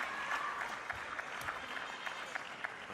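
Crowd applause at a table tennis match at the ITTF Mixed Team World Cup 2023: steady, dense clapping that holds for the whole stretch at a moderate, slightly distant level, with faint murmuring beneath it.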